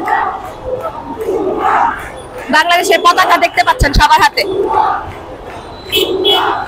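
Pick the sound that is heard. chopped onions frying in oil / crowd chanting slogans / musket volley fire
crowd chanting slogans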